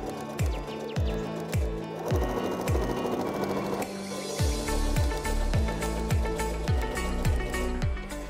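Sewing machine stitching reflective ribbon onto the hood of a rain cape, close and steady, with regular rapid needle thumps in two runs separated by a short pause and faint chirpy background noise.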